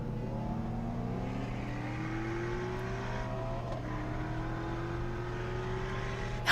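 A race car with an IS38 turbo on a 93-octane tune accelerates hard through a run, its engine note climbing steadily in pitch through the gears, loud and continuous with no talk.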